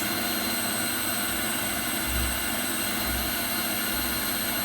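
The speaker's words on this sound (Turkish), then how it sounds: "bakır boru soğuduğu zaman motor daha fazla amper çekmeye başlıyor. Sesinin değiştiğini görüyorsunuz." An electric motor in a magnetic heating setup hums as a steady, dense whirr, its low end thickening and swelling in a few pulses as it draws more current while cooled copper pipe loads it.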